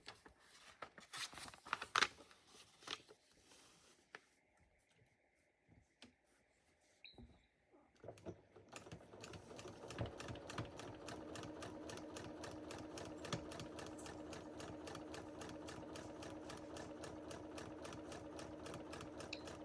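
A sewing machine re-stitching a foundation paper pieced quilt block. Light handling and fabric rustling come first, then a steady, rapid, continuous stitching whir runs close up to the end.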